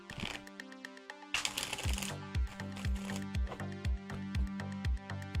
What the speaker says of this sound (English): let's do 2 more shuffles, and then I'll give this deck a nice clean cut